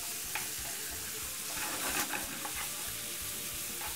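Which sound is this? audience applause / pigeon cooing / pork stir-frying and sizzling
pork stir-frying and sizzling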